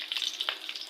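Cumin seeds, two dried red chillies and a bay leaf hit hot oil, giving a short, bright, hissing sizzle with quick crackles.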